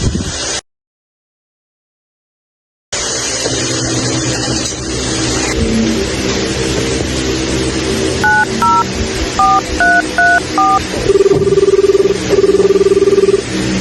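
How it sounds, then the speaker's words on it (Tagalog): A telephone number is dialed in a vehicle, with a series of loud DTMF touch-tone beeps in short, evenly spaced pairs. A steady ringback-style tone follows over a constant engine rumble, after a brief dropout near the start. "tawagan na natin si Mike"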